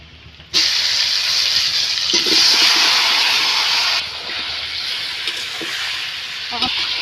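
Chicken drops into hot oil with spices already fried red, and a loud sizzle bursts out at once, hissing strongly and then settling to a steadier fry with faint stirring.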